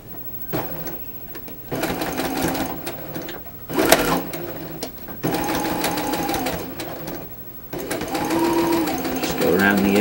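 A sewing machine back stitches fabric in bursts of steady motor whirring with brief pauses between runs, close and fairly loud, with a voice talking over it at times.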